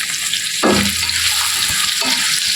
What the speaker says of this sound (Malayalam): ഇനി അതിലേക്ക് നമ്മൾ ഒരു 4 ചെറിയ സവാള അരിഞ്ഞതിട്ട് കൊടുക്കുന്നുണ്ട്